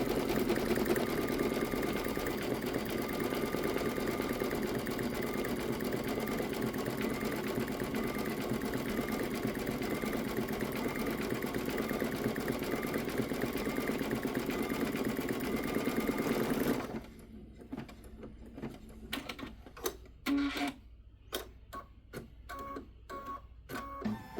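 An embroidery machine stitches a luggage tag design, a loud, steady, rapid mechanical whirring and clatter for about seventeen seconds, then stopping and giving way to scattered light clicks and handling noises.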